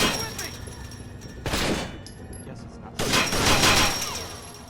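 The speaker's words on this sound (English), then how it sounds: "Sometimes it's a combination of a gunshot plus something else." Gunfire sound effect from a Rainbow Six video game casino shootout, a gunshot layered with a rattling chain link fence, arriving in two loud broadband bursts with a brief lull between them.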